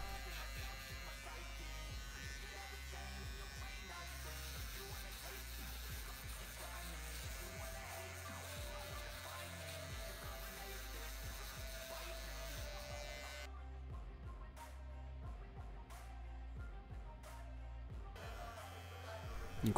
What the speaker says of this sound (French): Donc là je viens passer mon rasoir, je vais m'arrêter un tout petit peu en dessous de la ligne directrice.